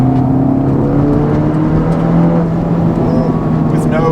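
A 2019 Honda Civic Type R with a Borla exhaust revs hard above 5,000 rpm, a loud, steady high-rpm drone and buzz of engine and exhaust with someone talking over it.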